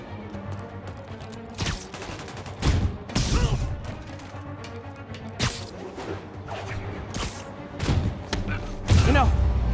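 Armed enemies open fire in Marvel's Spider-Man Remastered, with bursts of gunshots and heavy thumps scattered across a busy combat mix, some sharp cracks standing out loudly.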